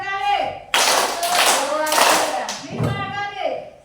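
Schoolchildren in a junior high classroom clap together in sharp, loud bursts, with a teacher's voice and children's voices in between the claps.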